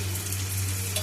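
Chopped onion frying in a pan for restaurant-style chili chicken gives a steady, close sizzle with a constant low hum underneath.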